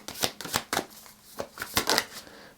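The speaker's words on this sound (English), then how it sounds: "This one I'm just shuffling." A deck of Threads of Fate Oracle cards being shuffled by hand, a series of quick crisp riffling bursts up close, about eight flicks in a little over two seconds.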